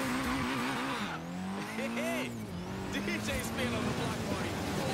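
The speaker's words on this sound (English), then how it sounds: "Let's do this burnout right now." Tires squeal through a Nissan Silvia S15 Spec-S burnout in the Forza Horizon 3 racing game, a sustained, loud engine and rubber screech with shifting pitch across the whole stretch, while someone talks over it.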